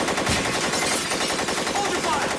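Sustained automatic gunfire from a film scene, a dense, continuous rattle of rapid shots lasting the whole stretch, loud and close with no talk over it.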